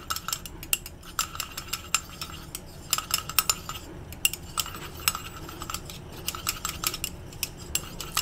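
Polysorbate 80 being stirred into carrier oil in a small container, giving steady clinking and scraping of a utensil against the vessel in close, irregular taps throughout, with no speech.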